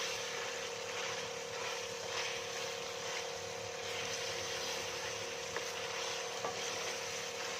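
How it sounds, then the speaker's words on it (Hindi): Chicken pieces for a white karahi fry and get stirred in a hot pan, giving a loud, continuous, even sizzle throughout with only faint stirring beneath; no talking. "ये देखिए कितने अच्छे से हो गया है चिकन की भुनाई"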